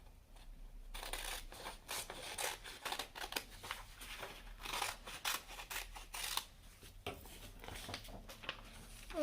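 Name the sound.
scissors cutting folded scrap paper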